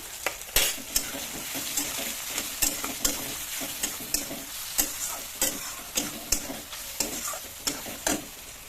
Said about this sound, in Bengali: ডাল এখন এটাকে অল্প ফ্রাই করে নেব।